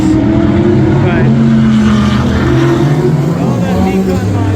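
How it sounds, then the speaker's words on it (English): Pace car engine at a vintage racing circuit reunion hums loudly and steadily with shifting drone tones, accompanied by people talking nearby. "We've got the pace car over here."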